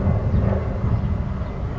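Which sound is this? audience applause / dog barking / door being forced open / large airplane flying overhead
large airplane flying overhead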